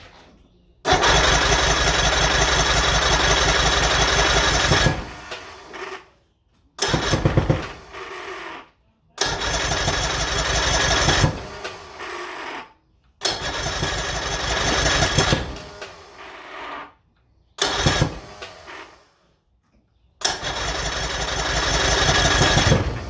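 Vintage barn-find boat engine cranked repeatedly, several loud bursts of a few seconds each separated by pauses, steady churning rhythm without catching to run.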